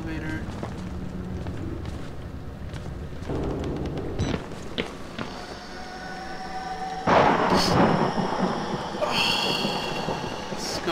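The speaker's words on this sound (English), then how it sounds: "Scumbag thunder." Thunder rolling in the Outlast horror video game, low rumbles building with a heavier crack-like burst midway, amid a dense stormy background of game noise.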